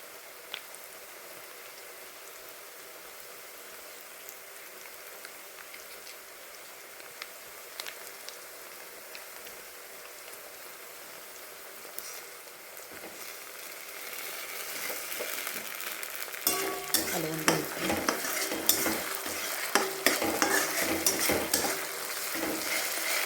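Tomato frying in oil with ginger garlic paste stirred in for dhaba-style dal tadka, starting as a faint hiss that swells into a loud, crackling sizzle with stirring in the last seconds, no talk.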